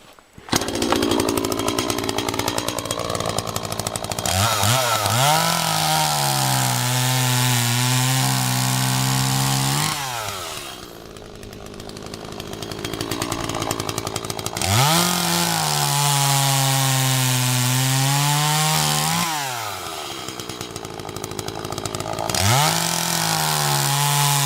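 An Echo chainsaw with a freshly sharpened chain bites into wood, its engine loud and close, revving hard through cuts then dropping to idle between them in repeated bursts; no voices.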